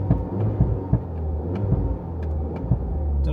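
A £700 Mini Cooper S engine and exhaust at traffic lights, heard from inside the car: a steady low throbbing drone punctuated by regular soft thumps and pops, fairly close and continuous.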